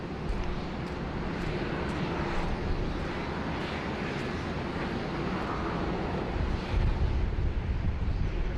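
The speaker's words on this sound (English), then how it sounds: "the Air New Zealand Dreamliner there just crossing 16 right, heading down for a 16 left departure" Air New Zealand Boeing 787 Dreamliner taxiing at Sydney Airport, heard as a continuous broadband jet-engine rumble with a low roar, steady and moderately distant, mixed with wind noise on the microphone.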